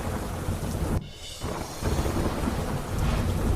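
Steady, dense rain pours down in Dang district, Gujarat, with a heavy rumbling roar of thunder rolling through after a brief lull.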